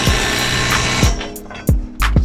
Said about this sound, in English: I just use my drill, save pulling two items out at a time.